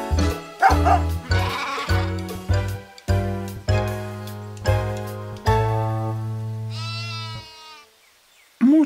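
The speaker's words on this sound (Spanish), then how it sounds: "¡Se escaparon mis ovejas!" Cartoon sheep bleat loudly in a rapid series of separate, wavering calls on a farm, with a brief jingly tinkle near the end.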